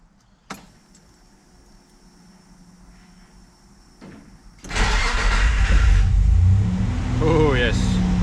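A Nissan Navara's freshly fitted VG30 engine cranks after a few clicks and taps, then fires up into a loud, close, rough idle as it begins warming up, with a brief rev near the end.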